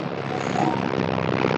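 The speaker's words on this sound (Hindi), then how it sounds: "ट्रैक्टर वाला को जाने देते हैं" A tractor engine rumbles past at a steady, loud, broadband drone that holds throughout without a break or any voices.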